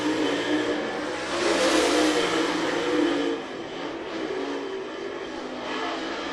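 Race cars circling the dirt track at Muskingum County Speedway in Dresden, Ohio, a steady roar of engines at a distance that swells and fades as the field passes, with no talk over it.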